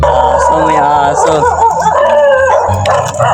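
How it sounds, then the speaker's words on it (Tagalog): Several dogs bark and howl close by, overlapping and continuous, with voices mixed in among the yips and yowls. "madaming aso dito"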